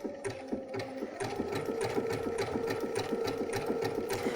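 A Baby Lock Brilliant sewing machine runs a steady, fast rhythmic satin stitch for appliqué on fabric. The close mechanical whirr and needle ticking continue throughout with no talking.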